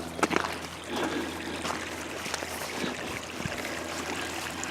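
Groundwater seeping up out of saturated ground near the Western & Atlantic Railroad Tunnel in Georgia, a faint, steady trickle and babble of running water heard close by, with a few soft outdoor knocks and rustles.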